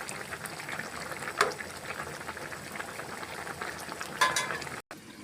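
Hilsa fish curry with taro stems simmers in a pot over a village-style fire, bubbling softly and steadily with a couple of faint clinks, no talking.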